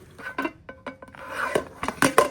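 A metal lid for a Jetboil Genesis Basecamp frying pan is handled up close, with several short clinks, scrapes and taps at irregular intervals, no speech.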